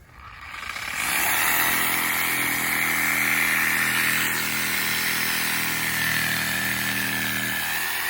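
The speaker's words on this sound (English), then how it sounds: "We're using a sawzall to cut it." Reciprocating saw cutting through tree roots in the ground near a buried sprinkler pipe, a loud, steady buzzing cut that starts after a second and runs without a break to the end.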